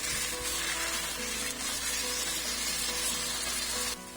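Leftover chicken marinade sautéing in a hot pan, a loud, dense, continuous sizzle heard up close that keeps going without a break before dropping slightly at the very end.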